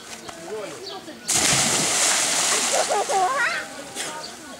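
A cannonball jump lands in a natural freshwater pool with a sudden loud splash, followed by sloshing water and excited voices talking and shouting nearby.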